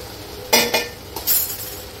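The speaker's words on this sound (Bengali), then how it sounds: "এবার এই যে মুগ ডালটাও দিয়ে দিচ্ছি," Fried and washed mung dal goes into a cooking pot, a few quick clinks and rattles against the metal followed by a brief soft shuffle, close and alone without talk.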